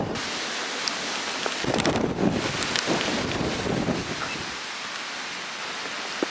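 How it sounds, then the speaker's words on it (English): Strong wind buffeting the microphone, a loud continuous roar with gusty surges in the middle, no voices. "It's a very windy day today"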